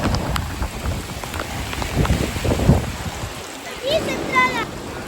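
Steady heavy rain pours down with a dense hiss, while voices and brief shouts come through partway into the downpour.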